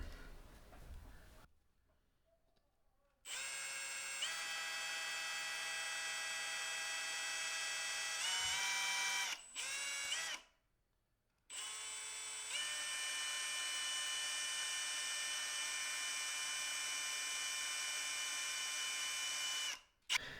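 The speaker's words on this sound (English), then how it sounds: "we'll get our 4mm drill and we'll drill that out" A small high-pitched electric drill with a 4mm bit whines steadily in several bursts drilling out plastic, stopping and restarting, close and sustained.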